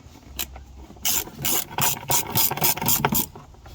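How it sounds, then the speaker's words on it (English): Ratchet tightening 6 mm bolts on the mass air flow sensor of a BMW E92, a series of close, loud bursts of rapid clicking pawl strokes separated by short pauses, with no talking. "Get your 6 mil and tighten these up."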